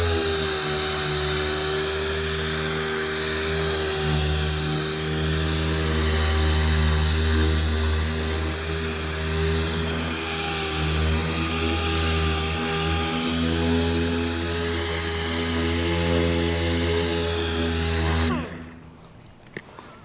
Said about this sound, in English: you can take this 3000, I'll show you real quick, and it'll DA it right off